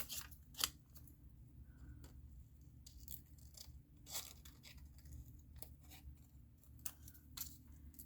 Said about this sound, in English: So I'm going to trim this around by the scarf.